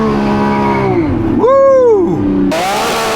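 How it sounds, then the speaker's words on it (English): A Lamborghini Revuelto engine revs hard, dips, then climbs sharply as the car launches into a burnout, loud and close, with a sudden burst of broadband tire noise at the end. "all you do is just stab the throttle and it just revs up and launches and does like a burnout"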